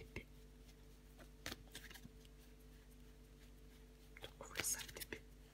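Tarot cards being handled and laid down make a few faint, sharp taps and soft paper rustles in a very quiet room, with whispered speech in the background.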